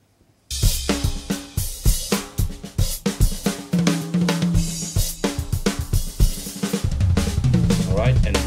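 A mixed drum recording plays back in Ableton, starting abruptly after a brief silence: punchy kick, snare and cymbal hits in a steady groove with a sustained low tone under the beat, loud and full.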